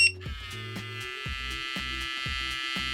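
A VGR 946 electric hair clipper with ice cooling technology starts with a few pulsing electronic tones, then settles into a steady, close-up motor buzz that runs alone throughout.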